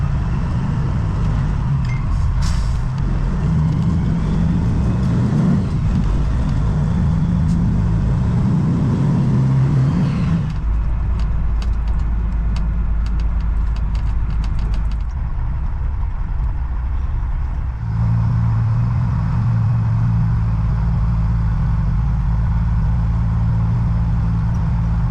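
A loaded semi truck pulls away at Montgomery Pass, Nevada, with a loud, close engine drone that shifts in tone and level as it drives off, and no talking.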